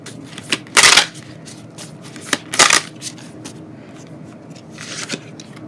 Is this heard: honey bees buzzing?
no